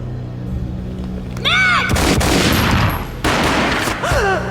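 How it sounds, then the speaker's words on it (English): A booming gunshot in the video game Max Payne, one loud blast with a long rumbling tail, a second burst following, and a dramatic musical swell around them. "A gunshot boomed and she fell down in slow motion"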